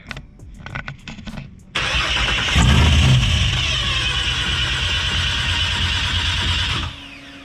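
A Barra-swapped Foxbody Mustang cranks after a brief stretch of clicking, the starter whirring loudly and steadily for about five seconds without catching, then cutting off.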